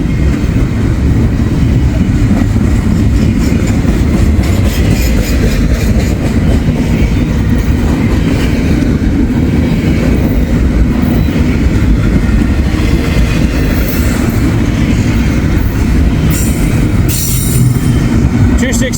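A long freight train of intermodal containers bound from Chicagoland toward a Cincinnati yard rolls past close by, a loud continuous rumble with rattling cars and bursts of wheel squeal, alone without talk.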